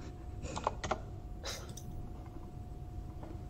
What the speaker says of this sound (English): I forgot about that keyboard and how loud it was.